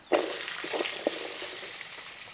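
About 25 small chopped shallots, with chili and garlic, fry in hot oil in a Kerala-style pan, giving a steady broadband sizzle that bursts up as they hit the oil, with a few soft stirring knocks under it.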